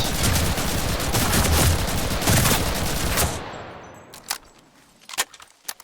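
Sustained automatic gunfire from submachine guns in the Enlisted video game, a dense fusillade of rapid overlapping shots that cuts off abruptly, followed by a few scattered single shots and clacks in the quiet.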